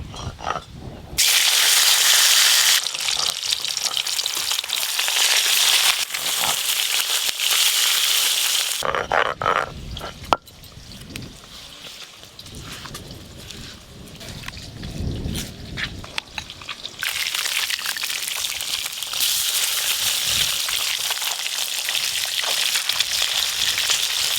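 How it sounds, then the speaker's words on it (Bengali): Loud, steady sizzling and crackling of catla fish frying in hot white oil, easing to a quieter stretch midway before the hiss surges again. "আজকে আমি সাদা তেল দিয়ে মাছ ভাজবো।"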